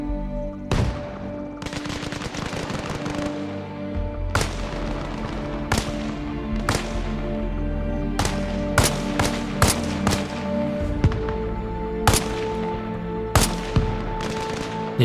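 Repeated gunshots from Arma Reforger, a military shooter, crack out in irregular bursts across the whole stretch, some shots sharp and close, others quicker and overlapping, each leaving a short echoing tail, with no talking.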